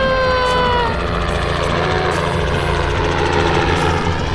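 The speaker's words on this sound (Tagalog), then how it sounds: "Oh, it's a helicopter!" A helicopter drones steadily and loudly overhead near a lake at a Hunter Valley winery, its continuous rotor and engine roar filling the scene with no speech.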